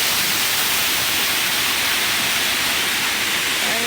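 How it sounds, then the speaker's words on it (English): A waterfall pours steadily beneath a bridge, a loud, unbroken roar of rushing water filling the air at close range from start to finish. "We are on a bridge now with this awesome waterfall."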